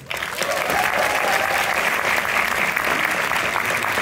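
Cinema audience at a film premiere screening welcoming the director onstage, a sudden burst of loud, dense applause that starts abruptly and holds steady and close for several seconds.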